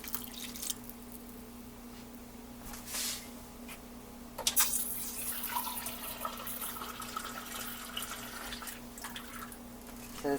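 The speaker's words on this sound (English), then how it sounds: "And I'm going to cover these with water." Water poured from a tap into a pan of diced celery and onions, a steady close splashing and running flow with a brief louder gush partway through; no talking.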